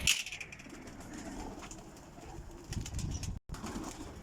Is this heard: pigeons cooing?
yes